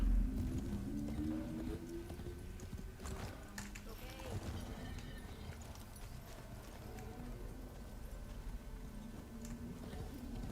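A horse-like mount in the video game Warframe gallops with rhythmic clip-clop hoofbeats that continue steadily under a voice.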